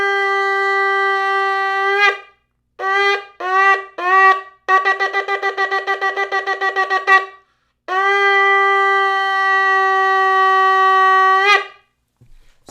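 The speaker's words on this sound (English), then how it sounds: "the blast of the shofar on Rosh Hashana" A Rosh Hashana shofar sounds the Tekia-Shevarim-Terua-Tekia sequence: a long steady blast, three short broken calls, a rapid run of staccato blasts, then a final long blast, loud and close with no talking.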